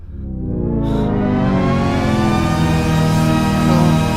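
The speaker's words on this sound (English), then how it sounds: "it actually glides up and down because it's two sounds layered." A thick, layered synthesizer tone sustains loudly, its pitch gliding slowly up and down with a faint airy swish near the start.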